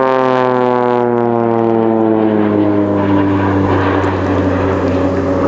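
Propeller engines of Swiss Air Force Pilatus PC-7 trainers spool up at an air show, a loud steady drone whose pitch climbs and thickens as more engines join, close and continuous.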